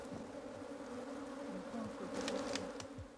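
Bees from a strong opened hive colony buzz in a continuous low drone, close but fairly faint, with a few individual insects zipping past louder near the end.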